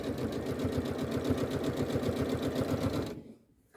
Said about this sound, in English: I'm just going to stitch down the center of both of these, and I'm just using a regular straight stitch here.